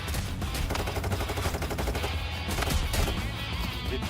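Dense, loud, continuous gunfire fills the heist shooter Payday 3, rapid automatic bursts overlapping with no break and no voices.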